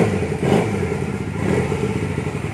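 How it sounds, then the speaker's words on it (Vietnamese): An original Honda Rebel 150 liquid-cooled motorcycle engine runs at a steady idle, a continuous close mid-pitched putter with a light mechanical clatter and no talk over it. "máy nổ, máy rất đẹp, máy đang nổ nha anh em."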